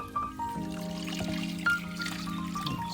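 Distilled water is poured into a container of soil, a steady close trickle that runs for about three seconds, with light splashing and a low hum behind it.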